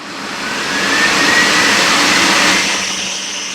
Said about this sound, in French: Je vais juste activer la clim.